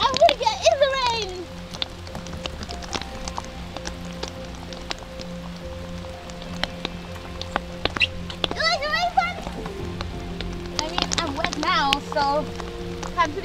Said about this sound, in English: it's been so dry, and you know, we needed the rain